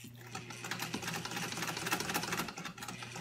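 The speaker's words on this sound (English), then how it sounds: "At least the sewing machine keeps rhythm." A sewing machine runs steadily with a fast mechanical rattle and a constant low hum, moderately close, with no voices.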